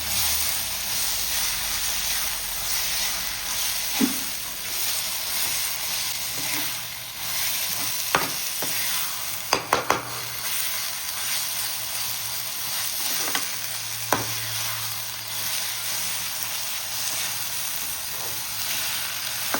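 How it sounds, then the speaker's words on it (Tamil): Mint and coriander sautéing in a pan for goat trotter soup, a constant close hiss of frying broken by several sharp spatula clinks and scrapes scattered through the stretch. "புதினா கொத்தமல்லியை போட்டு ஒரு வதக்கி கொத்திக்கணும்"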